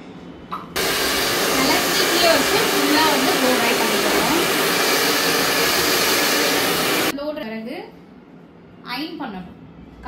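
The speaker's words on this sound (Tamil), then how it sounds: "இதுக்கப்புறம் வந்து நம்ம நல்ல ப்ளோ ட்ரை வந்து நம்ம பண்ணிடலாம்." A hair dryer blowing hair for a bun hairstyle at a beauty academy, loud and steady for about six seconds, then cutting off sharply, followed by someone talking.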